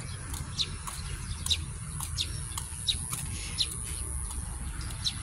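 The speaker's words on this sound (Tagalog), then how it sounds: "Parang may ibon dito." Birds chirp outdoors beside a rice field in bright morning sun, giving short, sharp repeated calls at a steady rhythm over a constant background hiss.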